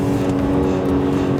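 A 300 bhp BMW E46 M3 with 160,000 miles pulls hard into second gear, its engine a loud, steady close-up drone without breaks, heard alone with no talking.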